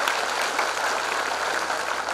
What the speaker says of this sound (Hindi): तो एक बार जोरदार तालियां होनी चाहिए सभी कलाकारों के लिए।